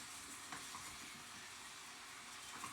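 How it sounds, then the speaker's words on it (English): Apple pie filling cooking down in a pot as it is stirred, a faint steady sizzle with soft scattered scraping and bubbling, no voices. "And stir this together and let it cook down"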